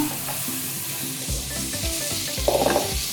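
Sliced carrots frying in salad oil for bibimbap give a steady close sizzle, with a few soft scrapes and stirs of a utensil against the pan and a brief clink near the end.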